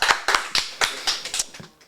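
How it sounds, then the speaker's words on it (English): A small group claps for Sean in a quick burst of about seven sharp, close hand claps, fairly loud, with a faint cheer mixed in and no other sounds. "Clap it up for Sean"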